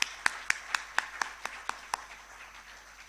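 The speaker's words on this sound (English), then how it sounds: "A big round of applause." Sparse clapping at an international conference on integrative chemistry and biology: a few distinct, evenly spaced claps, quiet and somewhat distant, fading out after about two seconds.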